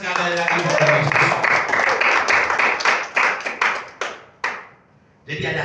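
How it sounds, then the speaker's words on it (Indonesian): A church congregation claps hands together during a sermon, first a dense burst of applause, then separating into a few loud, distinct claps with a brief pause before a final burst. "Tepuk tangan sekali lagi buat Yesus."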